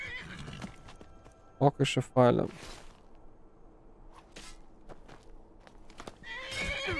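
A horse in Skyrim Anniversary Edition gives a couple of sharp whinnies amid clip-clopping hooves, with game sound effects and someone talking over it.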